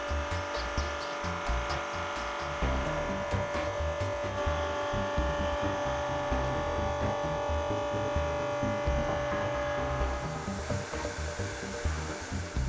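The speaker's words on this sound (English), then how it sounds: "use the grey rotary knob to set the feed rate so that the machine is slowly fed into the material" AUTOCUT 500 automatic chamfering machine with its milling motor running steadily while slowly fed into the material, a loud continuous whirring hum with a sustained tonal whine and rough low throbbing, alone without talk.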